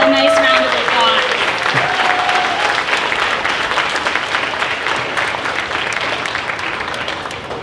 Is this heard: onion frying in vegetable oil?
no